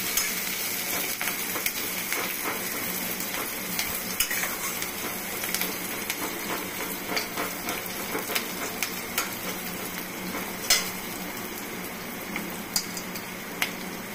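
Onion and garlic frying in hot oil while being stirred for a chichinga (snake gourd) dish, a continuous bright sizzle with occasional scrapes and clinks of the spoon against the pan, no talking.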